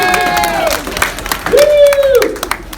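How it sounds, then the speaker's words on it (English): An audience at a magic comedy dinner show breaks into brief applause with a whooping cheer, a short, lively burst of crowd clapping with voices mixed in. "We'll give Keith a big round of applause."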